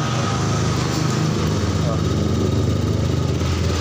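A Honda Genio scooter engine with a newly replaced ECM runs close by at a steady, even idle, its rapid putter holding constant with no stalls or revs.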